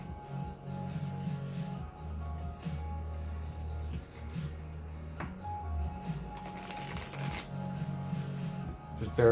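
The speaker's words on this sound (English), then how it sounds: "Just focus and center yourself as I'm shuffling the cards here." Playing cards are shuffled repeatedly close by, a rhythmic riffling and soft slapping that continues in waves with brief pauses.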